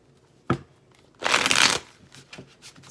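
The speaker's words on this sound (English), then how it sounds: "what I'm going to do is just shuffle the cards" Chakra cards are shuffled by hand during a reading: one short riffle, then a longer, louder burst of cards rustling and slapping together, followed by a few soft card taps in a quiet room.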